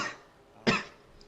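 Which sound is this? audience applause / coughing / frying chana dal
coughing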